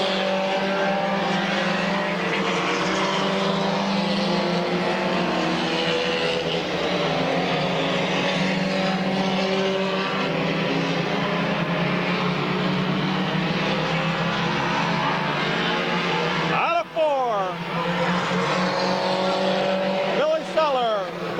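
Race cars at Midvale Speedway circle an oval in a continuous loud, droning engine roar, with a pass-by sweep near the end, under a race announcer's talk.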